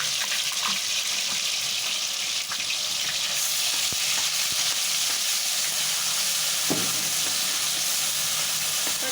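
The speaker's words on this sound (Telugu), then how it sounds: "పచ్చివాసన పోయేసి ఫ్రై చేసుకుంటూ ఉండాలి" Loud, continuous sizzling of ground spice paste frying in a pan for fish curry, an unbroken crackling hiss with occasional soft clinks of stirring.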